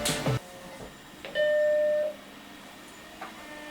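A brief old Macintosh computer startup chime rings out after a short clatter, a single sustained electronic tone that fades, followed by faint background hum.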